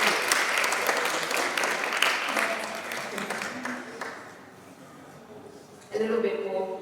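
Crowd applause at a STEM careers event greets a foundation CEO, loud at first and then thinning and fading, with a voice starting to speak near the end.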